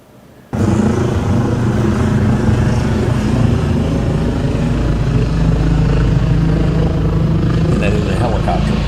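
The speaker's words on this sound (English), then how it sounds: "And that is a helicopter in the background you hear." A helicopter drones steadily and loudly in the background, a constant rumbling engine roar that starts abruptly after a brief quiet moment and continues throughout.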